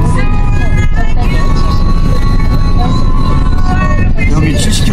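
An all-new Kia Carnival minivan fitted with a Tan R fuel-system add-on accelerates hard on the road, its engine a loud droning roar with rising tones under dense road noise, while people talk inside the cabin.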